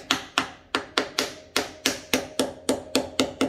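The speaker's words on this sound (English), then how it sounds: "I use, you know, this thing. It's like a Craftsman tap mallet. And I work the edges in." A Craftsman tap mallet strikes a bearing into a Ferris mower front caster, giving twelve sharp, evenly spaced knocks that each ring briefly before the next, loud and close with no talking.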